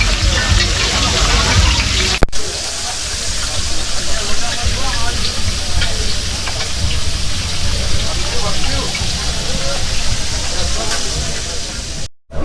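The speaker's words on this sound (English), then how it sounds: "So she's cut it all up and put it with flour, and then she deep fry it." Lobster pieces coated in flour deep fry in hot oil at a Phuket restaurant, a loud, dense, steady sizzling hiss filling the whole stretch, with a brief knock near the start and a cut-off at the end.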